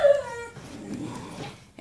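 A dog whimpers and yips faintly in the background, a short high whine at the start fading under low rustling noise in an outdoor container garden.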